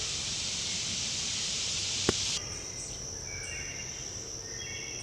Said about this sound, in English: I'm out in the woods listening to the wood thrushes singing